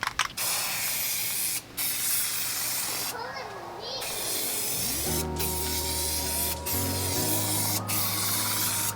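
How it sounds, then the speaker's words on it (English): Rust-Oleum vinyl wrap spray paint is applied to a Toyota Land Cruiser 100, a steady aerosol hiss running throughout with brief breaks between passes, while a low humming tone rises underneath partway through. "I feel like if I spray any more, it might start running"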